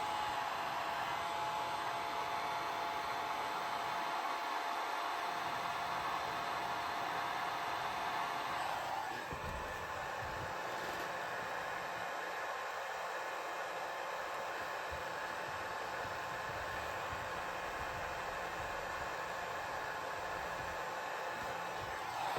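A heat gun blows a constant loud hiss, like a hair dryer, while warming a fuel line on a 1/5 scale RC race car, with a slight shift in tone partway through.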